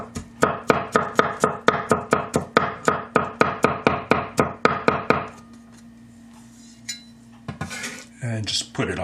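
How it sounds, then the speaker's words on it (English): Smashed garlic being chopped with a knife on a board, a fast steady run of about twenty sharp close chops that stops halfway, followed by quieter handling and a couple of knocks. "we're going to smash up some garlic. And then chop it up."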